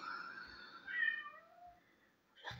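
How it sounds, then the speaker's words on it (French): A pet cat indoors giving a faint, drawn-out meow with a couple of softer follow-up mews, quiet and close in a calm room. "Ils sont gentils, les chats."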